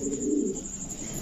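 Beauty pigeons coo at a pigeon market in a low, continuous, rolling murmur that stays close and steady throughout, with no voices over it.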